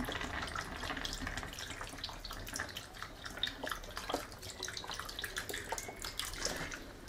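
Milk is poured into a pan of chicken sauce, a soft continuous liquid pour with small splashes and bubbling, fairly faint and close.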